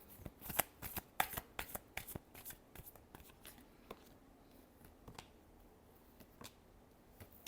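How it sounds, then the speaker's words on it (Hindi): Tarot cards are riffled and shuffled by hand, a busy run of sharp crisp flicks and slaps early on that thins into softer, sparser card sounds, close up with no talking. "चलिए लास्ट शफल।"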